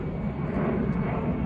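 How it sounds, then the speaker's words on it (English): An airplane passes overhead above a residential neighbourhood in Colombia, its broad, steady engine roar filling the short stretch at a constant, fairly loud level with no speech. "Airplane."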